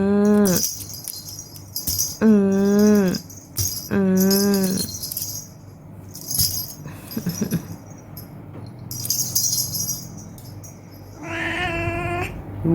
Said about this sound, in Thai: แมวบนค่ะ